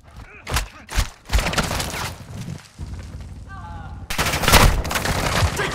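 Gunfire in Call of Duty: Modern Warfare II comes in repeated bursts and loud cracks over a dense battle din, with a heavy close volley near the end and game voice lines mixed in.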